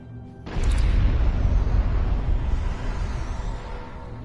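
Heavy battle noise from the Star Trek Online video game, a sudden loud boom followed by sustained rumbling explosions and gunfire that stay dense and low throughout.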